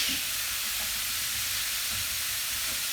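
Food cooks gently in a hot pan, giving a continuous soft sizzle and hiss at a constant level, close and unbroken, with no one talking.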